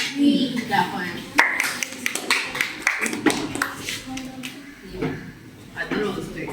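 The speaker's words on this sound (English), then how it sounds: "Clap for him." Students in a geometry classroom break into a short round of handclaps, a cluster of sharp taps mixed in with and partly masked by nearby talking.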